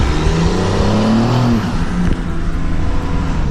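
A Cummins diesel pickup truck revs steadily on a road, loud and close, the engine note rising and then settling into a continuous rumble with no talking.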